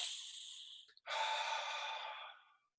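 Two slow, airy breaths close to the ear during a calm breathing exercise: a long exhale, a brief pause, then a longer drawn breath that fades out, with no talking.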